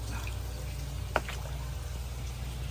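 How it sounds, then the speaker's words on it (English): Water in a crayfish tank pond runs through a bell siphon with a soft, steady trickle and gurgle, broken by one brief close drip or splash. "The water is flowing underneath."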